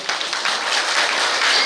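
Audience applause at a show with a Guinness record holder, a short dense burst of many hands clapping, fairly loud throughout.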